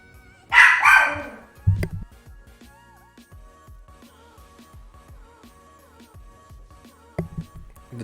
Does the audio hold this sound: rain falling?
no